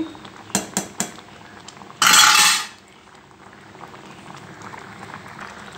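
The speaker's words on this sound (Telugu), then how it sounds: "రైస్ ఉడుకుతుంది ఫ్రెండ్స్, ఒక 5 మినిట్స్ ఉడకనివ్వాలి" Rice boils in a cooking pot for ragi mudda. A few sharp metallic clinks come first, then a short, loud burst of hissing steam, then soft, quiet bubbling.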